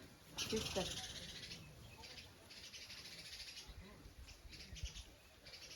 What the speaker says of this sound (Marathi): सकाळ सकाळ खूप चिमण्या असतात बघ ना किती आल्यात